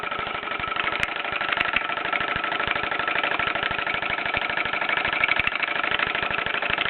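A 1930s Bowman M167 toy steam engine runs steadily, driving a small table saw, with a fast, even mechanical chatter and rapid ticking beats, close and continuous throughout with no talk.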